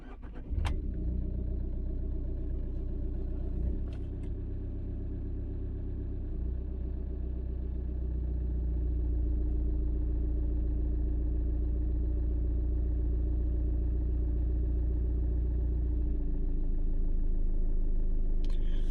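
Tata Nexon Pure Plus diesel car with a 1.5-litre turbo engine starts up, then settles into a steady, loud, close idle with a low rumbling drone and a slight rise in revs toward the end.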